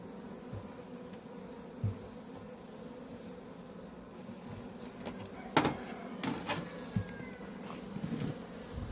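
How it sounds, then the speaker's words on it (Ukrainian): A continuous hum of many honeybees making cleansing flights around the hive, with a few louder individual bees passing close to the microphone. "ось так бджола облітується сьогодні"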